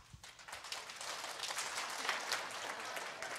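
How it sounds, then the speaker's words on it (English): A group of people clap together at an event session, producing a faint, scattered patter of applause that continues steadily for a few seconds. "and clap."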